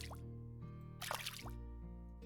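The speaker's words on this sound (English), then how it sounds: "Let's get the crops watered" Crops are watered with a diamond watering can in a farming roguelike video game, with soft game drip and splash effects over steady background music, faint and short.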